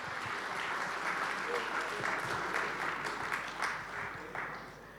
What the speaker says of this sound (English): can we have a huge round of applause for Neil George?